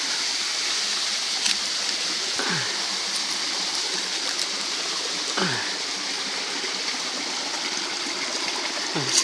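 Low, thin flow of water running down a narrow rock crevice at a waterfall in a dry spell, a steady close splashing rush with a few brief knocks.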